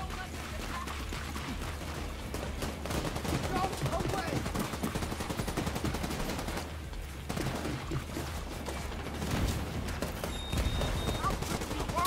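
Sustained automatic weapon fire from a squad firefight in The Division 2 rattles nonstop for about twelve seconds, loud and continuous with dense overlapping shots, while players talk underneath.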